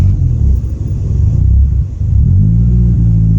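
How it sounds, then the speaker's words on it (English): A Honda Civic EJ1 with a D16Z6 engine idles roughly after a restart, its steady low rumble dipping and rising as the revs hunt for a stable idle. "see that with the idle there? So it's having a hard time finding the idle. But it's revving properly."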